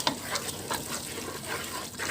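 Water is poured into a pot of chicken biryani masala, a faint, continuous splashing gush lasting a couple of seconds.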